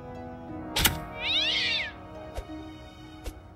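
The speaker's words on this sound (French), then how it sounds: "Ah, j'ai tiré sur le chat." A cat in the South Park video game gives one loud, wavering meow after being shot with a crossbow, set between a few sharp thuds over quiet background game music.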